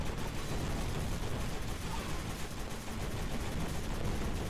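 Dense, continuous battle din from the video game Kick Ass Commandos, with missile explosions and gunfire blending into a steady roar that holds at an even level throughout and never settles into separate shots.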